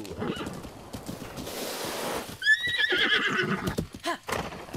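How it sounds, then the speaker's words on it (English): In The Legend of Zelda: Breath of the Wild, a horse whinnies in a rising, shaky neigh amid rushing, clattering hooves and rumbling noise, with a brief scraping whoosh before it. "Oh, there's our horse."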